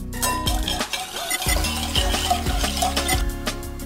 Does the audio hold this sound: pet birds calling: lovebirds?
no